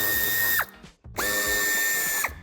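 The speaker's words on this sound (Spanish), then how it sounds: "quitaremos los tres tornillos que sujetan el paragolpes. También son tornillos de Torx de 25." Power tool, likely a cordless drill or driver, removing Torx 25 screws that hold the bumper of a 2013-2017 Škoda Octavia Combi III by the right wheel arch. Two bursts of whirring spin up and down with a short pause between, close and loud.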